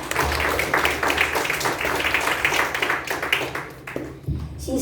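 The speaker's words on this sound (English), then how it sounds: "Let's give her a round of applause." An audience applauds a youth leader named Olivia after her speech at a youth leadership event, steady dense clapping filling the room for several seconds before thinning out near the end.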